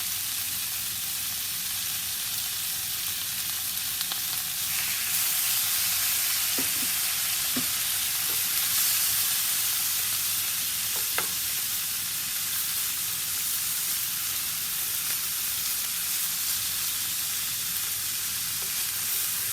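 Thin strips of steak seasoned with salt and pepper sizzle steadily in a hot pan, a dense continuous frying hiss with a few faint scrapes and taps of stirring, no voices.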